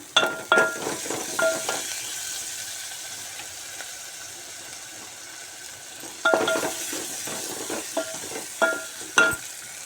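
Ginger paste and turmeric fry in a pan for a bean curry, a soft sizzle under close clinks and scrapes of a spoon against the pan in two bursts of stirring.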